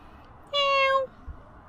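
A cat gives a single clear, drawn-out meow close by, set against quiet outdoor background noise on a cold afternoon.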